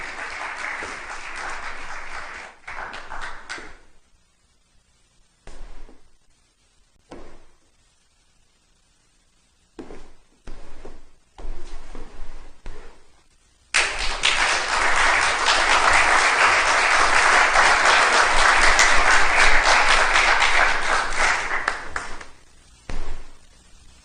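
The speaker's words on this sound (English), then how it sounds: "a round of applause for the Honourable Prime Minister and for our latest inductee" Audience applause at a Hall of Fame induction during a general assembly, honouring the Prime Minister and the newest inductee; a few short bursts of clapping give way to a long, loud, sustained ovation from the crowd.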